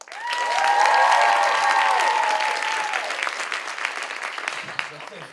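A live audience at a comedy-style stage show breaks into dense, sustained applause that swells quickly and holds for several seconds before thinning out, with a voice speaking over the clapping.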